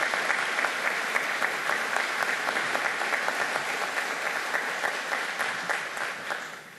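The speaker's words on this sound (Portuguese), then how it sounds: "Uma salva de palmas para os nossos familiares." Steady, dense applause from a crowd at a ceremony honoring veterans and their families, sustained clapping that fades slightly at the end.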